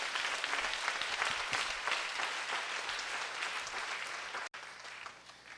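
A church congregation claps together in a dense, sustained wash of applause during a Korean worship service, dropping out abruptly near the end before a brief resumption.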